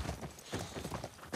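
Horse hooves clip-clop steadily in The Last of Us Part II, a close, rhythmic run of hoofbeats at moderate loudness with no voice over it.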